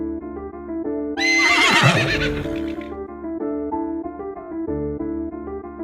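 A horse gives one loud, shrill whinny that trails off over about two seconds, set over a soft, steady musical backing.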